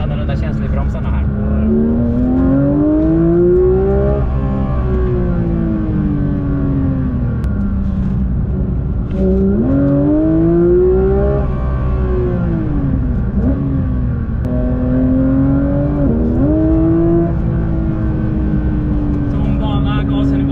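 A Porsche 911 GT3 at full throttle on a circuit, engine note rising in long pulls, dipping at each gear change and climbing again, loud and close throughout with steady road and wind roar beneath.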